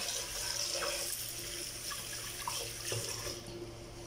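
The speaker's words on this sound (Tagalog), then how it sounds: "Hugasan natin sa mabuti yung bigas natin" Rice is washed under running tap water while cooking koshari, giving a faint, continuous splashing stream with occasional soft clinks and swishes.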